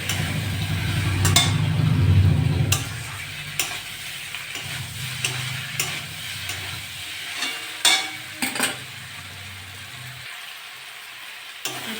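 Small fish, brinjal and potato sautéed in a pan with tomato: a loud sizzle early on fades to a quieter fry, punctuated by sharp spatula clinks and scrapes against the pan at irregular intervals.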